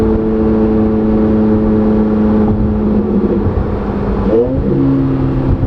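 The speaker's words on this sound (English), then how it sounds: "Those turbos are singing like beautiful songs" A twin turbo Chevrolet Corvette C8 Z06 drones steadily as it accelerates, heard from inside, with a brief shift in pitch near the end before the engine note settles again.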